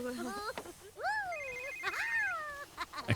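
A cell phone in The Sims 3 rings with a chirpy, warbling synthesized melody of rising and falling tones, repeated in short bursts, fairly faint.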